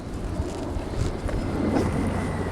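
Sea breeze on the Matsushima coast in Miyagi gusts across the microphone, a continuous rumbling whoosh of moderate loudness with no voices.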